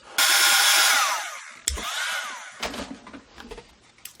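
A handheld heat or hair dryer blows steadily over freshly sprayed paint on a junk journal collage page, a loud whooshing roar that cuts off abruptly, restarts briefly, then gives way to clattering handling sounds.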